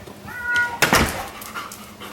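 A dog whimpers with a couple of thin whines, then gives a sharp, loud yip or bark, all close by, during a find-the-bone food game.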